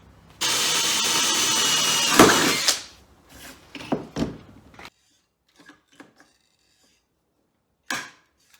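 A power drill bores rivet holes in a DIY seat box trolley with a loud, steady burst of about two seconds, followed by knocks and handling noises and one more short burst near the end.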